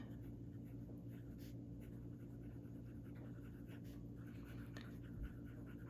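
A fountain pen with a medium 14 karat gold nib and Diamine Candlelight ink scratches softly across paper in short strokes, very faint and close against a steady low background hum.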